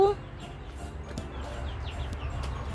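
Chickens cluck softly on a farm, faint scattered calls over a low outdoor background hum, with one louder squawk at the very start.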